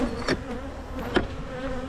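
Honey bees from a freshly caught swarm buzzing close by, a steady insect drone with a few louder passes as individual bees fly near.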